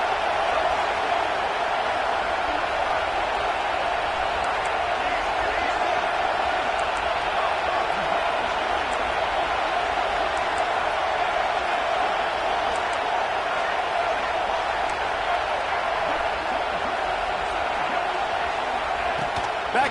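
A stadium crowd roars steadily throughout a College Football 26 game between Michigan and Notre Dame, a dense, constant wash of noise with no clear breaks.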